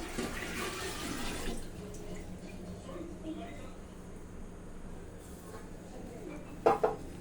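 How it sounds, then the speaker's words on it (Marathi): Water poured into a cooking pot for a non-vegetarian curry, heard as a short rushing splash at the start that fades into a low, steady background hum. "पाणी टाकायचं."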